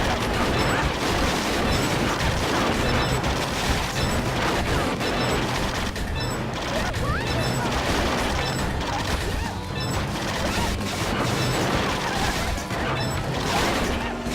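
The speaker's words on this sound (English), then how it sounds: "because of the noise of the city and the cars and what you hear is also too loud" City traffic and car noise in a Sega driving game on Xbox 360: a dense, loud, steady wash of engine roar and street clamor with occasional crashes and thumps, continuous throughout with no speech.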